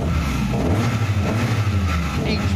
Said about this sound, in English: It may not have TVR's classic R8 V8, but the Tuscan still makes an awesome sound.